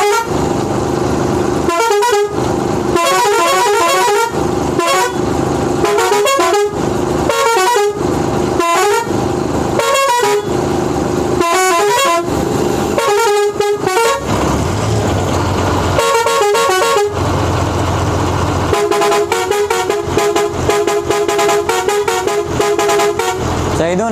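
Musical air horns on a tourist bus blow loud, melodic tune patterns in bursts with short gaps, ending in a long sustained run of tones, with someone talking over them.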